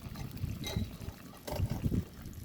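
Leftover broth pours into chicken liver in a pan for a home-cooked liver steak, giving short close-up trickling and splashing bursts against a low background sizzle.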